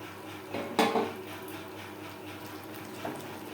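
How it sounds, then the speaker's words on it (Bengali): Spiced water poured into a pot of chicken biryani with meat and potatoes, a continuous splashing, gurgling pour with a few metallic clinks of the pot near the start, steady and close. "আমি এখানে মশলা দেওয়া জল অ্যাড করলাম"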